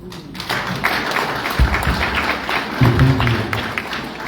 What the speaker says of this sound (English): Let's give a hand clap once again